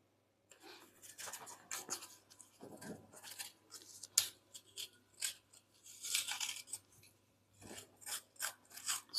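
Tender coconut flesh is cut into small pieces with quiet, repeated scraping and chopping strokes in uneven bursts, close and soft against a silent background.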